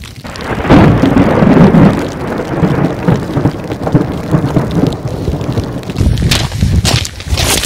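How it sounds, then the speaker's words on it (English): Rain and gusting wind sweep across a mountain trail beside Marble Lake near Wonder Pass in Banff, a loud, steady wash of falling rain and buffeting wind with occasional thumps, no voices. "Yeah, it's raining, it's windy."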